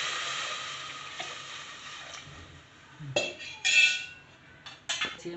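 Buttermilk poured into a hot garlic and asafoetida tempering at home hisses loudly at first, the sizzle fading before sharp bursts of spitting and clinks of utensils against the pan.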